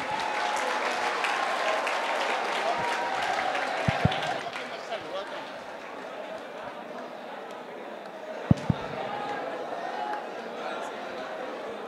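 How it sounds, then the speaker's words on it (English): A school audience at Rabindranath Tagore School applauds with brisk clapping that thins out after a few seconds into room murmur and chatter, broken by a few sharp knocks. "Give him good round of applause."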